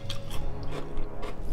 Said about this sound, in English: Let me finish chewing first.